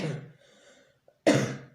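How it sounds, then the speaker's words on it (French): A single sharp, loud cough bursts out near the end after a stretch of quiet breathing and murmured sound. "Je tousse"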